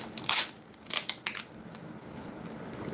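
Scissors snipping open packaging for projector screens: a few sharp, close crisp cuts in a quick cluster, then quieter rustling.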